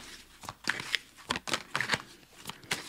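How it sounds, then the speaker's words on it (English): Tarot cards being shuffled, with quick riffling bursts of papery flicks and taps in an irregular rhythm, close and fairly soft, no talking. "Let's shuffle out a couple of those"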